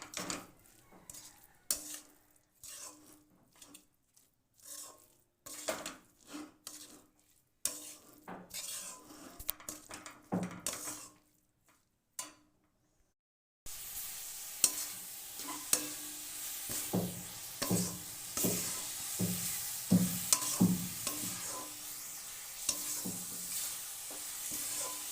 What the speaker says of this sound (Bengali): আঁচটা লোতে দিয়ে ভালো করে নেড়ে চেড়ে পুরটা তৈরি করে নেব।